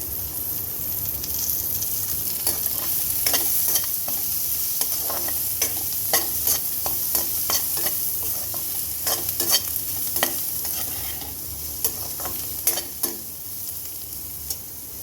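Onions fry with curry leaves in a pan, a constant bright sizzle broken by frequent clattering scrapes of a spoon stirring, close and loud with no talk.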